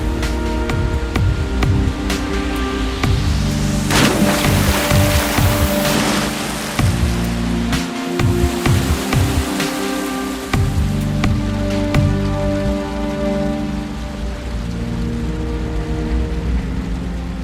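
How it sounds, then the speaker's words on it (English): Loud, continuous rush of river rapids down south, a dense unbroken roar of churning water that holds steady throughout with no voices. "The gushing rapids make for one of the best rafting experiences down south."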